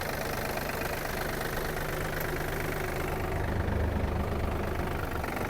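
A Yanmar RS-300 Hi Speed mini tractor engine runs loudly and close, its steady chugging rising in pitch and intensity as it revs up toward the end.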